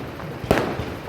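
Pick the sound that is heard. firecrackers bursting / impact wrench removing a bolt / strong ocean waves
firecrackers bursting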